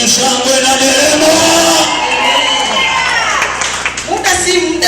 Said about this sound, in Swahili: Piga Yesu shangwe na nderemo.